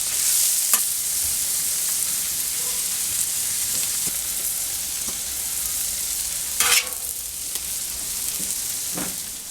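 Sweet Vidalia onions and peppers fry in a pan with a steady, hissing sizzle throughout, close and constant, broken by a couple of brief clatters of stirring.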